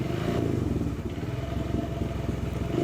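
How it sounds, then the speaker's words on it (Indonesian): A Suzuki Verza motorcycle runs after being fired up on its electric starter, a steady close engine idle with a rapid rhythmic thrum and light mechanical clatter throughout. "lalu saja kita coba untuk bagian starternya, dan ini pun bisa"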